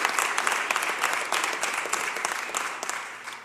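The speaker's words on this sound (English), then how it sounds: "please give yourselves a big round of applause as well" Audience applause at a city land bank bill signing, steady dense clapping from a crowd throughout, fairly close and even in loudness.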